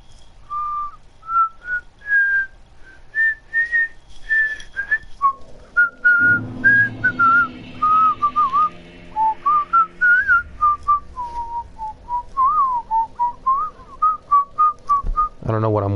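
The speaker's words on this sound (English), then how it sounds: "I don't know what I'm whistling." A person whistles a wandering tune up close, a long run of clear melodic phrases with short pauses between, over faint background noise.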